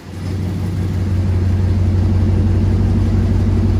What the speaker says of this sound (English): with this exhaust kit, they give you little remotes to open and close the valves